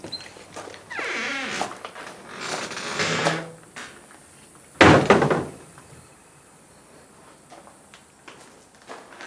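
A barn door in Marceline, Missouri scrapes and rattles as it moves, then lands with one loud thud partway through, followed by quieter creaks and knocks.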